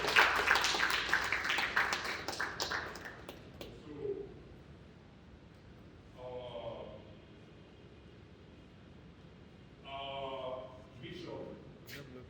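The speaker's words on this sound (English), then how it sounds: "She deserves a round of applause." Audience applause for an art curator at an arts event, a loud burst of clapping that fades after a few seconds, followed by quieter stretches with voices.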